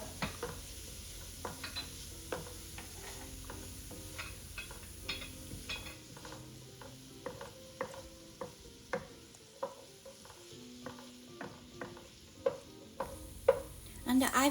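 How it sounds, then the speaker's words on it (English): Chopped vegetables stir-fry in melted ghee in a pan, a soft, steady sizzle broken by frequent clinks and scrapes of a utensil against the pan, close and fairly quiet, no talking. "And then transfer the chopped vegetables and stir fry."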